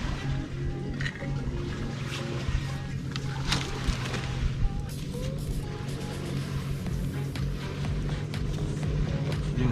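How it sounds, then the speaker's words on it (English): A boat's engine drones steadily in the distance out on the ocean along the Jamaican coast, a continuous low rumble beneath wind and outdoor noise, with occasional knocks and clatter nearby. "Actually hear the boat out from the ocean."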